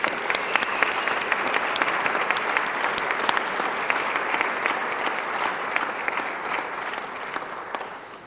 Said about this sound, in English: How about one big round of applause for all of our Impact Award honorees?